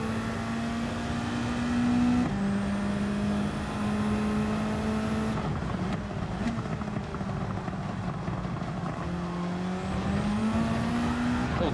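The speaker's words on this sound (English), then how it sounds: "The anti-lag sound of the popping. It's pretty cool" Gr.3 race car in Gran Turismo 7, engine revving up and down through gear changes with anti-lag popping and brief tire squeal, loud and close, continuous with no speech.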